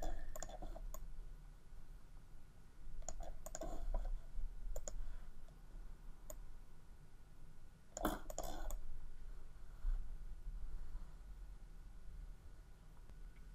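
Computer mouse clicks while loading an image in cover design software: sparse, sharp clicks spaced over several seconds, with a denser cluster near the middle, close and faint against a quiet room hum.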